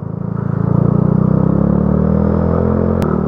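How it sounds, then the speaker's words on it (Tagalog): A Yamaha Aerox scooter engine drones loud and close while riding on a mountain road, a steady buzzing hum that rises slightly and holds, with wind rush and a brief click near the end. "Aerox na yung dala kong motor."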